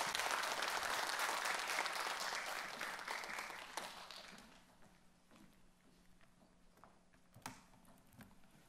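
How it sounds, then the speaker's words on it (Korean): A congregation at a Thursday women's worship service at Irvine Onnuri Church applauds a professor coming forward, loud dense clapping for about four seconds that fades to a quieter tail with a few scattered claps. "교수님 나오실 때 박수로 한번 환영해 주십시오"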